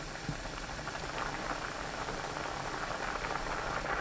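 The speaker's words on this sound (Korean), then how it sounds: "끓으면 뚜껑 열고 센 불로 7분 더 끓여주세요" A Korean tofu and gochujang stew boiling uncovered on high heat, a steady, low bubbling and simmering hiss throughout, close and constant with no talk.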